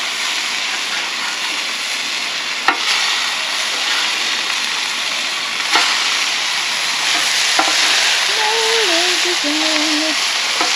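A cinnamon bun breakfast sandwich fries in a pan just after being flipped, giving a loud, steady sizzle with a couple of sharp clicks and a faint voice murmuring near the end.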